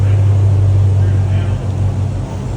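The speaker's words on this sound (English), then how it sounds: "Car's fired up." A 2018 Camaro engine idles steadily just after starting, a loud continuous low rumble with a constant hum throughout and little variation.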